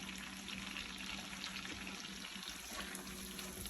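Butter and chopped shallots sizzle and melt in a pan for a shallot butter sauce to go with a tomahawk ribeye, giving a steady, dense crackling hiss close up throughout.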